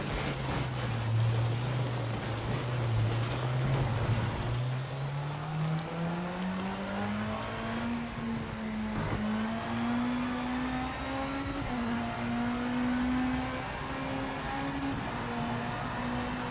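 A racing car engine in a sim racing game drones steadily, its pitch climbing slowly and unevenly as it labors to gain speed, with a synthetic game-like tone throughout.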